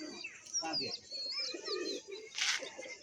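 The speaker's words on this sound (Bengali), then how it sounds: "দেখতে পাচ্ছি বন্ধুরা পায়রা নেমে পড়ছে।" Pigeons landing and cooing nearby, with soft murmuring coos and a few higher chirps against quiet background, plus a brief rustling flutter near the end.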